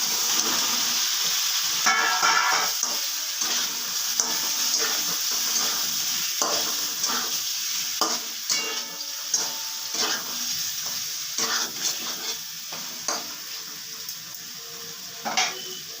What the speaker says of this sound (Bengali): এবার আমি পটলগুলোকে এর মধ্যে দিয়ে দিচ্ছি